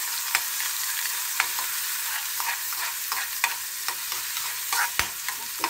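Garlic sautéing in hot oil in a frying pan for pork menudo, a steady bright sizzle with recurring sharp clinks and scrapes of a utensil stirring, close and alone without talk.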